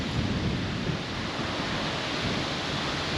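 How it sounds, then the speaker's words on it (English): Light rain patters steadily on a tent at a Nevada campsite, a continuous soft hiss with low rumble, no voices. "It's raining, but not very much"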